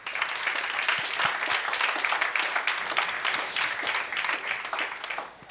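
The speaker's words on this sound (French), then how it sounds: "je pense qu'on peut les applaudir bien chaleureusement" A crowd applauds warmly at a digital industry awards event honoring young talents, steady moderately distant clapping that holds for several seconds and then fades.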